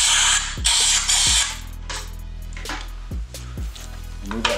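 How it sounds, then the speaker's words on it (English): A nozzle blasts air out of a spark plug hole on a Yamaha Warrior 1700 in several sharp hissing bursts, loud at first, then shorter and fainter puffs follow. "grab that nozzle and go ahead and spray out that hole."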